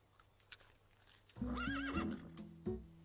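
A cartoon horse lets out a loud, wavering whinny over a few clip-clopping hoofbeats, close and clear with no talk.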